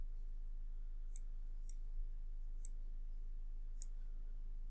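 Four faint, sharp computer mouse clicks, spaced irregularly a second or so apart, over a quiet background hum.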